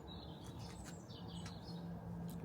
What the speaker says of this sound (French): Le petit bruit des oiseaux là.